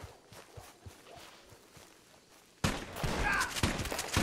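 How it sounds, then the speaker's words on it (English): Varmint rifle gunshots in Red Dead Online, with quiet hoof-like thuds at first, then a sudden loud burst of firing and commotion that carries through to the end. "Got him! Varmint rifle kill!"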